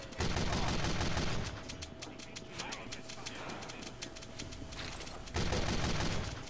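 Gunfire in the video game Team Fortress 2, with rapid bursts of shots and continuous battle noise, loud and sustained with a louder surge at the start and end.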